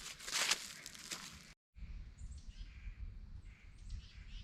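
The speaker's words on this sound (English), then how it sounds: "the birds are out" Crows caw outdoors at a campsite, with a burst of harsh calls at first, then quieter, more distant bird calls over a soft outdoor background after a brief gap.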